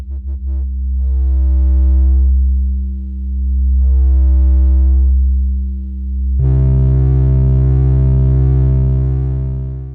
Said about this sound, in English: I like sine waves better when they are in the lower frequency bands.